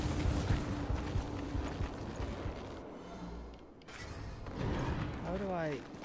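Horse hooves clip-clop rapidly in the Darksiders II video game, a galloping patter mixed with game effects, pausing briefly before resuming, with a rising whistling sound near the end.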